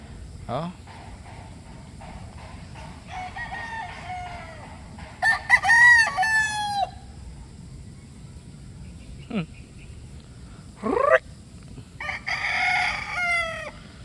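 Several crows from a breeder rooster at a gamefowl breeding pen, loud and near, rising and falling in long calls spaced across the clip, with softer clucking and someone talking in between.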